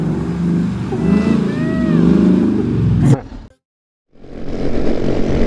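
Boom Vader Grom clone motorcycle ridden hard, revving loudly up close with rising engine pitch before cutting to near silence, then droning again on a highway.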